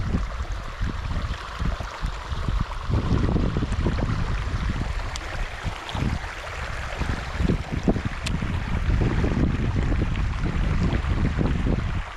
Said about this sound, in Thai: ลมก็แรง